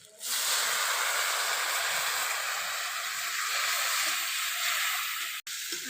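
Water poured over ground coriander and cumin in a hot pan for a Bengali crab curry gives off a loud, steady hiss and steam sizzle that holds for several seconds, then cuts off briefly near the end.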